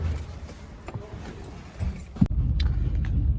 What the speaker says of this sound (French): les poubelles passent, donc il y a un petit peu de bruit et ça fait un petit bouchon dans la rue